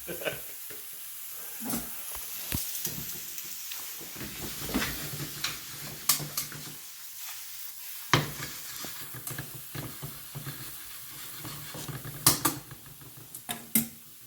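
A salmon scampi sauce of clam juice, white wine and lemon juice sizzles and reduces in a pan beside cooking salmon, a steady close hiss broken by occasional clinks and stirring sounds.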